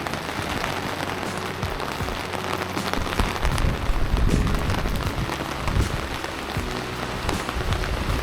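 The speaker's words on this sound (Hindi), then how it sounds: "बर्फ स्नोफॉल देखने आए थे और यहाँ पे हो रही है बारिश" Steady rain falls on the hills of the Triund trek, a dense, continuous patter with clustered drops, close and moderately loud throughout, with no voices.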